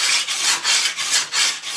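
A sharpening stone rubbing rust off an old sickle blade, a loud, rhythmic gritty rasp of steady back-and-forth strokes, about three per second, close and alone.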